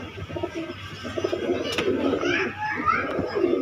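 Racing pigeons coo in soft, repeated low warbles, close by, with faint background voices and rustling.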